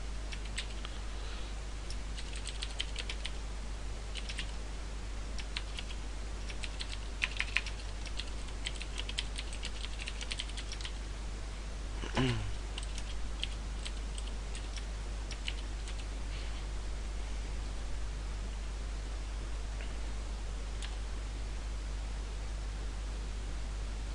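Steady typing on a computer keyboard clatters on and off for a long stretch while C# code is written, the keys close and fairly soft over a constant low electrical hum, with no talking.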